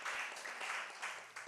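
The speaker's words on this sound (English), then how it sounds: "So please give him a round of applause." An audience at an African art music symposium applauds after a keynote speaker, a scholar of African music, is introduced; a brief, dense burst of many hands clapping that fills the room.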